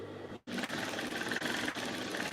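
Sewing machine stitching through the fabric of a pair of short pants, a close, quiet, steady mechanical whir that pauses briefly at the start and then runs on.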